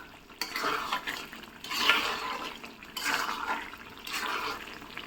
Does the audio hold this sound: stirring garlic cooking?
yes